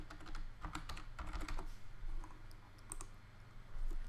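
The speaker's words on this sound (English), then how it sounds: "put in the password" A password is typed on a computer keyboard as a quiet run of irregular, close key clicks with short pauses, no voices.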